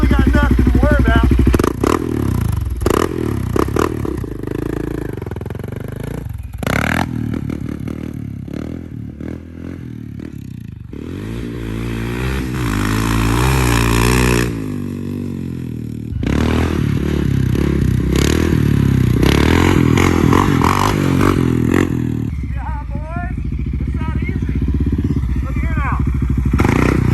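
A Can-Am DS650 ATV fitted with a new exhaust is ridden, its engine revving up and down with rising and falling pitch, rattles and thumps from the ride, and a rider talking over it at times.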